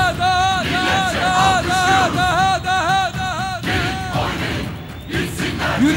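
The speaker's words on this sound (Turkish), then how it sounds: "Göreyim alkışlarınızı." A large crowd at a political rally in Ardahan roars, whoops and cheers continuously, with loud rhythmic chanting swells carrying through a dense, sustained mass of voices.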